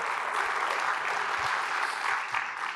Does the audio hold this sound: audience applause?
yes